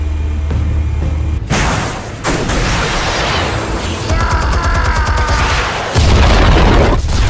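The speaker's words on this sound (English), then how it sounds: "Explosives armed. Fire when ready." Explosives go off in the Batman Telltale game with a sudden loud boom, followed by crackling, rumbling debris and a wash of noisy blasts, plus a second heavy burst near the end.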